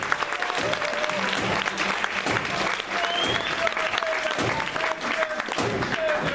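Audience in a courtroom setting breaks into sustained, dense applause after a closing plea, steady and close throughout, with a voice speaking over it.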